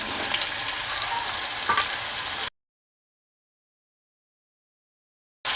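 Ginger, turmeric and potato pieces sautéing in hot oil in a pan, a close, busy sizzle with a couple of stirring scrapes, cut off by a stretch of silence before the frying briefly returns.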